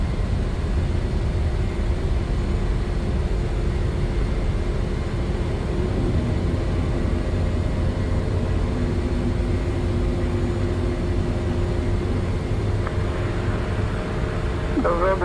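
Embraer E-190 jet engines roar steadily through a takeoff climb in a flight simulator, a loud, continuous broadband rumble with a sustained low drone and no break for the full length.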